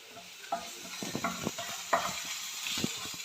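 Chopped onion, ginger and curry leaves fry in a pan while a spoon stirs them, with irregular scraping clinks over a steady close sizzle and no talk.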